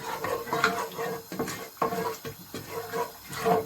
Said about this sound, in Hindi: इसको हम ऑयल में भून लेंगे